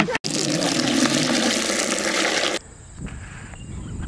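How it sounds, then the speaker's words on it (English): Water pours loudly and steadily into a bucket set out for farm ducks, a broad gushing rush that runs for a few seconds before stopping abruptly, leaving quieter outdoor background with faint movement. "I'm gonna go fill up their water bucket first."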